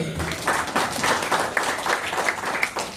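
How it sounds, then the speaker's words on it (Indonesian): Audience applause at an Indonesian organization's leadership briefing, a steady burst of clapping from a seated crowd, fairly close and loud, with brief voices underneath at the start. "Tepuk tangan."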